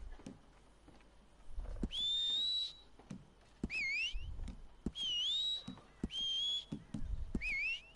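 Whistling in the video game Red Dead Online, heard as about five short rising whistles spread across the stretch. Soft thumps, like hooves, fall between them.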